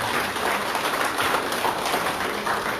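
Crowd applause for the municipal team at a village patron-saint festival, a steady dense wash of clapping hands held at an even level throughout, with no voices over it.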